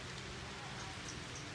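Rain falling outdoors in the Mekong Delta countryside near a dry jackfruit tree, a faint, dense, continuous hiss of drops with no distinct rhythm.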